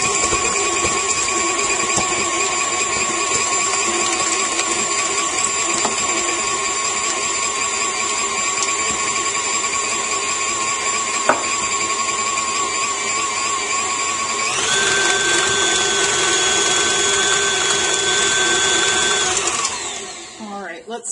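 A KitchenAid stand mixer whirs steadily while beating gluten-free blondie batter, a continuous high motor whine that shifts pitch partway through and winds down at the end.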